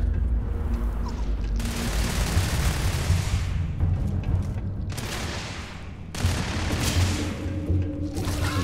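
Heavy gunfire from the video game Starfield erupts in long roaring bursts, loud and close, separated by short lulls with a low rumble between.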